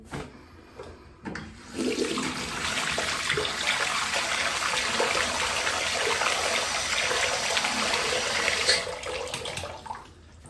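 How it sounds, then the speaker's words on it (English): Hot tap water runs steadily over a razor at a bathroom sink, a loud continuous gush that starts after a few soft knocks and stops abruptly near the end. "I'm just gonna heat the razor up underneath the hot water"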